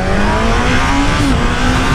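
A motorcycle, a Today, accelerates hard while traction control holds back the revs, making a loud, continuous close-up engine roar under rushing wind, with the pitch climbing slightly and then dipping briefly.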